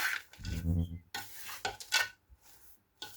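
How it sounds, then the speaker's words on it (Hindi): Crushed moong dal panjiri ingredients with raisins being mixed in a bowl, giving close scraping and stirring rustles in short bursts separated by brief pauses. "अब इन सब चीज़ों को पहले हम मिक्स कर लेंगे अच्छे तरीके से।"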